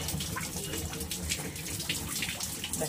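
Water overflowing from a tap at home, a continuous close rushing splash and gush with slight fluctuations and no talk.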